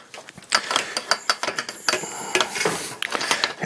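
Nuts being hand-tightened onto greased bolts, giving a run of quick metallic ratcheting clicks and small clinks, close and fairly loud, with no voices.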